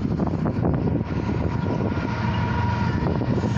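A heavy rumbling roar with steady broadband noise as a long eastbound Norfolk Southern stack freight train rolls past nearby, loud and continuous throughout.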